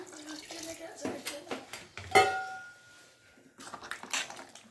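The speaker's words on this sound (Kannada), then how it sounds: "ಹಾಗೆ ಇನ್ನೊಂದು ಸ್ವಲ್ಪ ನೀರು ಹಾಕ್ಬಿಡೋಣ" Water splashes and trickles into a mixer jar in short pours, mixed with clinks of utensils and a ringing metallic tap, close and fairly quiet.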